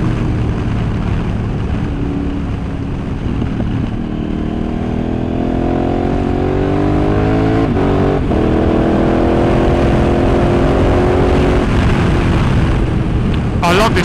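A KTM Super Adventure S motorcycle accelerates hard on the road, its engine climbing in pitch through several gears with the quick shifter giving brief blips between changes, loud and continuous over steady wind rush.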